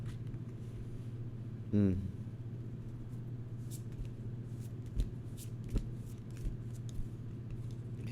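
Tarot cards being shuffled and dealt, a brief riffling flutter early on followed by scattered soft taps and slaps as cards are laid down, close and quiet over a steady low hum.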